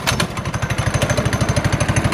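A pull-started small gas engine fitted to a Power Wheels Mustang ride-on toy car runs at a steady idle, a loud, close, rapid rhythmic chugging like a lawnmower with even pulses throughout.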